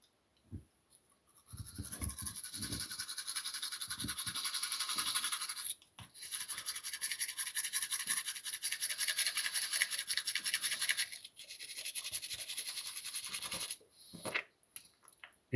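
A wet toothbrush scrubs teeth with a crushed toothpaste tablet, giving steady, close, bristly scratching in long strokes broken by brief pauses.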